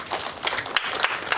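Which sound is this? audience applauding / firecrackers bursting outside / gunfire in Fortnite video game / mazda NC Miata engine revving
audience applauding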